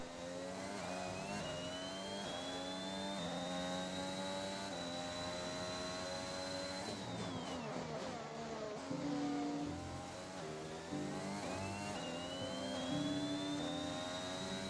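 Race car engine in the rain, sustained mid-pitch whine rising through the gears with revs climbing, a dip near the middle, then accelerating again hard out of a corner, loud and continuous with no voices.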